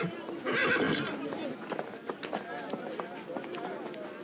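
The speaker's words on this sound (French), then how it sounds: "Lorsqu'il parade à cheval dans les rues de Casablanca, le général Hubert Lyautey a derrière lui un" A horse whinnies loudly, followed by hooves clip-clopping on a hard street in Casablanca amid crowd noise and voices.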